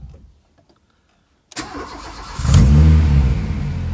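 A hot Renault Clio 16S with a failed water-temperature sensor cranks after a moment of near silence and catches within a second. It settles into a loud, close, rough idle with a slight rev.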